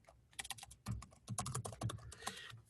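A computer keyboard being typed on quickly, as a web address is entered, with a steady run of close, crisp keystrokes and no one talking over them.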